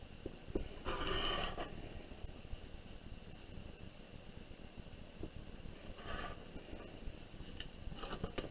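Sharp rasping scissor-like cuts trimming the rough edge of a doublure in Islamic bookbinding, three short bursts close by against a quiet room background.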